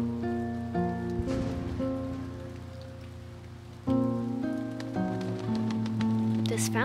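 Steady rain falls in the video game Imposter Factory, a continuous wash of patter beneath sustained synth music tones, with no voices over it.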